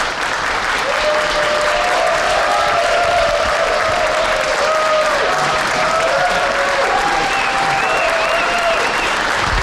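A large audience applauds steadily and loudly for the winner at a StarCraft 2 tournament grand final, WCS Europe Season 2, with sustained clapping and some crowd noise throughout.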